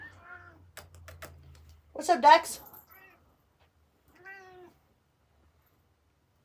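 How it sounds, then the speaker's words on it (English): A cat lets out a few close, loud meows, including one strained cry, in a quiet room while a person talks to it. "the cat is screaming"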